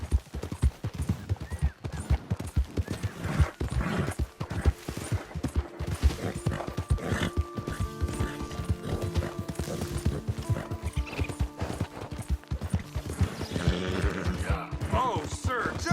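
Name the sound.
horse hooves and neighing in a video game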